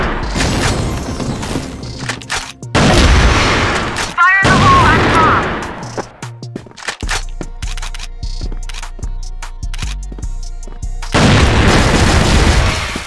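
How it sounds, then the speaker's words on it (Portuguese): Loud booming blasts and rattling gunfire from a CrossFire first-person shooter match, with dense bursts of explosive noise, a short gap, then sharp repeated shots and another heavy roar at the end. "Fire in the hole!"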